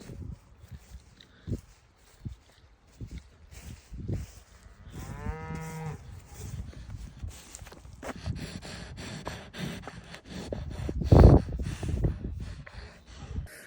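A cow lets out a single drawn-out moo amid rustling, shuffling and footsteps, with another low bellow or snort later on.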